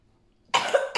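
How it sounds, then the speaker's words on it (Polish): A child gives a single forceful cough close to the microphone after a quiet moment, followed by the start of a second cough. "kaszlij mi porządnie ostatni raz"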